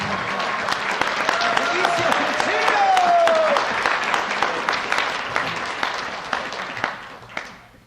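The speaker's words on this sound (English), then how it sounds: "I would be remiss if I didn't give Ezio a round of applause here for the amazing work that he does" An event audience at a wine-opening night applauds for Ezio, sustained crowd clapping with a brief whistle, loud at first and gradually thinning toward the end.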